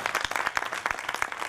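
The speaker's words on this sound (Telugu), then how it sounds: "మనమందరం ఒకసారి చప్పట్లతో కృతజ్ఞతలు తెలపాలి" An audience at a school alumni get-together claps in thanks, a brief patter of hands with distinct individual claps audible in the mix.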